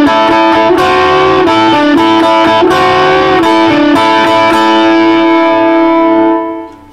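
Electric guitar playing a 12-bar blues riff in A with double stops and small bends at full tempo, loud and distorted with a rhythmic strummed pattern, ending on a ringing chord that fades out.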